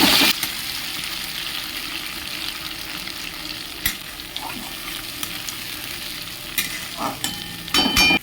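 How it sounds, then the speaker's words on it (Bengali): Ground spice paste of ginger, garlic, onion, tomato and chilli sizzles loudly in hot oil, a steady close hiss with spatters and occasional stirring scrapes, without talking. "এদিকে তেল গরম হয়ে গেছে, বাটা মশলাটা দিয়ে দেবো।"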